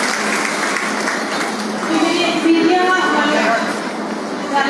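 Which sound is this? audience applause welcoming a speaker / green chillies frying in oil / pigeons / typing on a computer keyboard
audience applause welcoming a speaker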